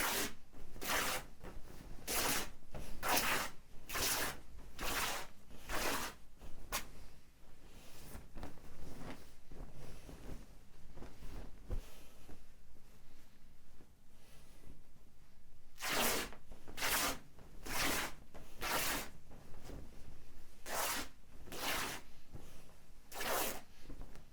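Cotton fabric torn by hand into strips for sewing a yukata, a series of sharp ripping bursts in quick rhythmic runs, separated by a quieter stretch, close and clear with no talk.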